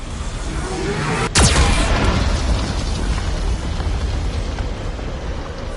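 A Geth cannon firing in the video game Mass Effect 2, with one sharp, loud explosive blast rising out of a dense, continuous roar of battle noise.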